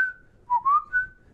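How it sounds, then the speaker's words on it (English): A short whistled melody from a song: a few clear, gliding tonal notes rising and falling, heard alone with no voices. "there's like a whistle part kind of on it"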